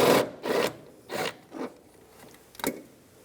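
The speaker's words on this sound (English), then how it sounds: "Take the nut off using a 10mm socket." A 10mm socket wrench ratchets in short rasping bursts, four or five quick strokes in an uneven rhythm, loosening a nut on the AC accumulator of a 1999-2006 Chevrolet Silverado 1500.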